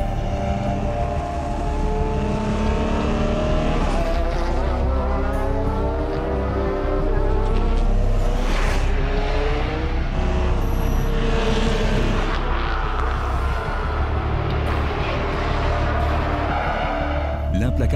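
Audi and Peugeot prototype race cars at the Le Mans 24 Hours, with loud engine whine rising and falling as cars pass, heard under a voice talking.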